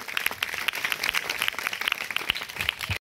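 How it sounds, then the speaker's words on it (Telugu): A church congregation claps loudly and continuously during a Holy Mass in Gudivada. Dense, steady applause fills the space from start to finish, with sharp individual claps standing out over the crowd. "ఆకాశ మండలము దాటి మీ చప్పట్లు పైకి వెళ్ళాలి, దేవుని దగ్గరకు గట్టిగా కొట్టండి"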